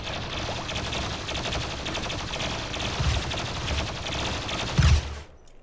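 Rapid bursts of gunfire in the colony-building game Rimworld, crackling continuously for several seconds with a heavier thump near the end before cutting to near silence; no talking.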